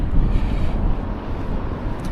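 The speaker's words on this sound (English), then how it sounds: "It's not crazy windy, but it's definitely pretty windy." Gusty wind buffets the microphone with a low, rumbling roar that swells and dips throughout.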